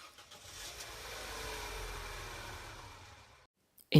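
A car engine cranks and catches, then runs with a steady mid-pitched hum for about three seconds before cutting off abruptly. A sharp noise follows at the very end, with no talking.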